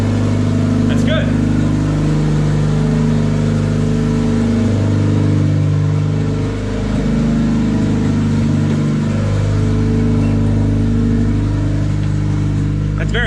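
A Honda D16Y8 turbo engine idles high and steady, running slightly rough on its tune, a loud close drone that continues throughout while someone talks over it.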